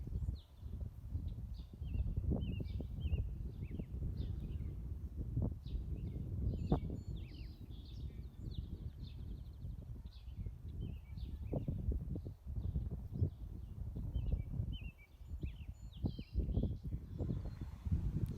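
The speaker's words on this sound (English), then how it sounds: "You can hear there are lots of red-winged blackbirds singing in the background." Many red-winged blackbirds sing and trill in the distance, overlapping calls scattered throughout, over low rustling and handling noise at a park pond in spring.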